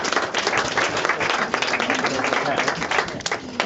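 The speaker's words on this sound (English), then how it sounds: "Let's give them all a round of applause for their great presentation." Audience applause for presenters before a panel discussion, a thick, continuous burst of many hands clapping at close, even loudness, with voices faintly mixed in.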